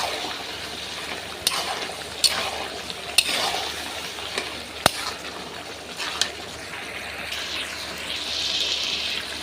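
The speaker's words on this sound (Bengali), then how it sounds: "আমাদের মাংস কিন্তু তেল ছাড়তে শুরু করে দিয়েছে। তো ভালোভাবে কষিয়ে নেব।" Chicken pieces sautéing in oil for Bengali kosha mangsho, a steady sizzle with the scrape and clack of a spatula stirring against the pan, with several sharp knocks spaced through it.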